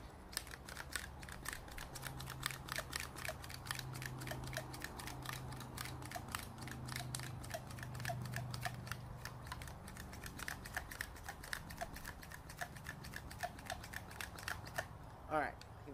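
The fuel bottle of an MSR Whisperlite white gas stove is pumped with rapid, evenly spaced clicking strokes that run continuously and fairly faintly over a low background hum.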